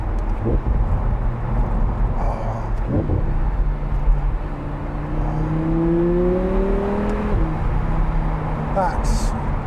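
Audi R8 V10 Spyder engine droning steadily while driving, its tone rising through the revs in a long sweep, heard from the cabin under a voice talking throughout.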